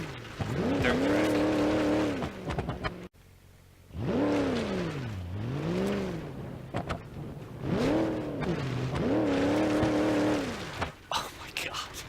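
A supercharged Skull Basher car lapping a dirt track in the BeamNG.drive video game, its engine rising and falling through repeated revving sweeps with short cuts between runs, tires scrabbling, and a driver talking over it.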